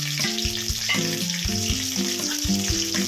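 Green chillies hitting hot oil already spiced with bay leaf, cinnamon, cloves and cardamom for egg masala, a loud continuous sizzle with rhythmic thuds and clatter from stirring throughout.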